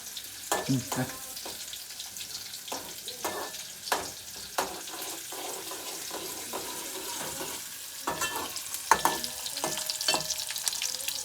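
Onion frying in hot oil in a home kitchen while a crab curry is cooked, a steady sizzle broken by scattered sharp clinks and scraping stirs, close and moderately loud with no talk.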